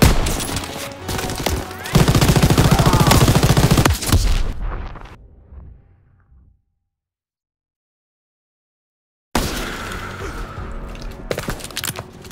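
Loud bursts of machine gun fire and explosions in the video game Call of Duty: WWII for several seconds, fading out into silence, then more distant gunfire and battle noise returning.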